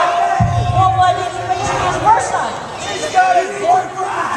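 A wrestling crowd at a Covey Pro cruiserweight title match roars and cheers steadily, a loud, dense wash of voices with a commentator talking over it.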